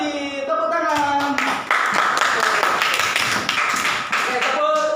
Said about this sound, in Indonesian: kita tepuk tangan untuk diri kita sendiri